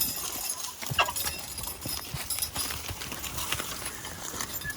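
Horse hooves clop steadily in a loose rhythm as horses pull a plow over a noisy outdoor background, with faint birds clucking now and then.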